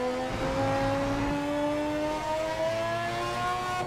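A car engine in the PC racing game PMR revs up, its rising whine climbing steadily in pitch toward a high squeal, loud and continuous with no other sounds.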